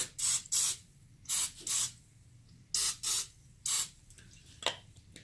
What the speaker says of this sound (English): I'm gonna try to spray all the flour.